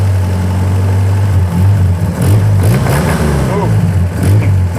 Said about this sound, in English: Now, it's only rod knocking a little bit